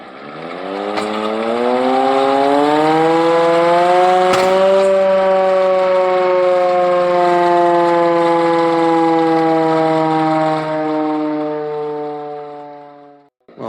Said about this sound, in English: Yes, we have a go on the air raid siren.